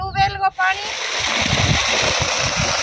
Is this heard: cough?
no